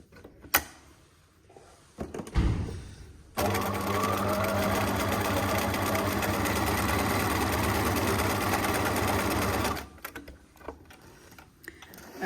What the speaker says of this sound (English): I'm just going to do a test stitch just to see what that looks like.